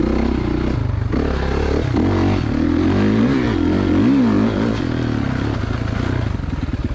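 2016 Kawasaki KX450 dirt bike ridden on a turn track at Johns Peak OHV: a loud, close engine that revs and drops through the corners, its pitch rising and falling, with clattering and scraping mixed in.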